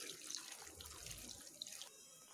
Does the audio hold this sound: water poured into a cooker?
yes